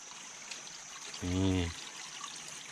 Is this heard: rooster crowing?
no